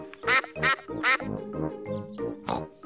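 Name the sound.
ducks quacking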